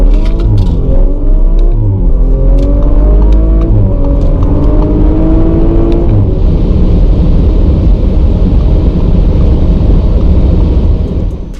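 A tuned Audi RS5 accelerating hard, its engine note rising through the gears with brief shift breaks, then settling into a loud roar with wind rush, close and with no talking.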